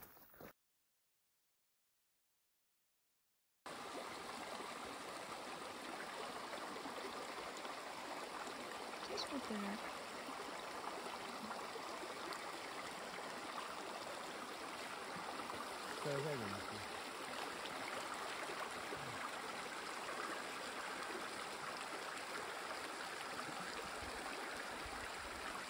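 Mountain stream in the Bieszczady mountains, a steady soft rush and gurgle of flowing water that continues evenly after a brief silent gap at the start, with no voices.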